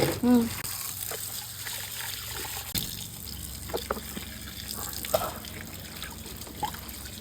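Seashells being washed under a running kitchen tap, water trickling and splashing steadily with occasional knocks of shell against the sink, while people talk over it.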